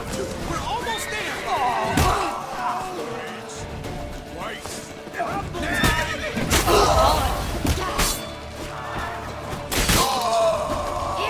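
A horse neighs loudly in The Witcher 3: Wild Hunt amid shouted dialogue, with heavy slams and crashes breaking through a busy in-game street scene.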